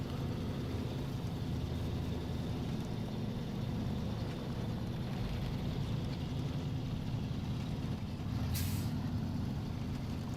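A truck in SnowRunner, a Loadstar 1700 Scout, grinds along with a steady low engine drone and rumble, joined by a brief hiss near the end, with no talking.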